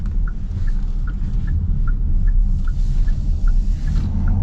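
A 2025 Kia Carnival Hybrid minivan accelerates with a steady low engine and road rumble from inside the cabin, joined by a faint regular ticking throughout.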